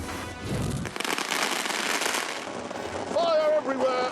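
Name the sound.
fireworks exploding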